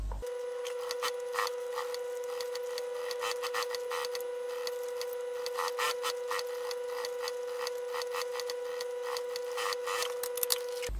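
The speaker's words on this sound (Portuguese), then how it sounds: "então agora nós vamos costurar com margem de meio centímetro" A sewing machine stitches a small fabric mini backpack with a steady rapid mechanical patter and a constant motor hum, quiet and close, running alone without talk.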